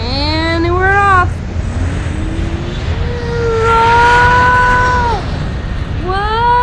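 A Ryan's World Combo Panda toy airplane starts its engine with electronic whirring tones that rise and glide in pitch, swelling and falling over several seconds against a steady background hum.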